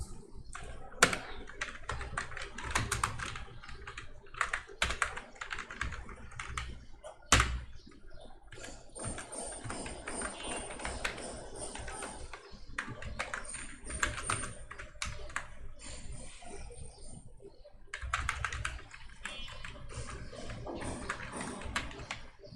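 Steady bursts of computer keyboard typing while PHP code is entered, close and fairly loud, with a few short pauses and occasional sharper key taps.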